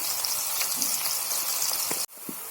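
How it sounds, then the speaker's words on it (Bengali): Prawns frying in oil with salt and turmeric give a dense, steady sizzle with small pops. The sizzle drops out abruptly near the end, then resumes. "চিংড়িটা আমি ভেজে নিচ্ছি তেল দিয়ে, নুন হলুদ দিয়ে আমি চিংড়িটাকে ভেজে নিচ্ছি"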